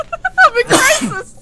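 A single sneeze bursts out in the middle of casual, excited speech among a group of tabletop role-playing players, loud and close, with talking immediately before it.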